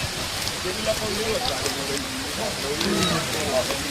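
Rain falling outdoors during a hill-fort trek, a constant close hiss of drops on surfaces with small irregular patters throughout, fairly loud and unbroken.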